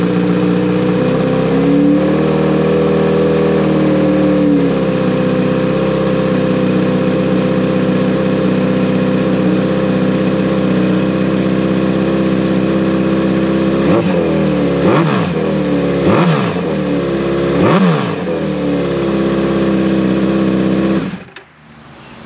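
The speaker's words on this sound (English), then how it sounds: "What you heard there is this SC Project exhaust that's on it." A Kawasaki Z900 motorcycle with an SC Project slip-on exhaust idles with a steady, loud rumble, then revs sharply three times near the end before cutting off.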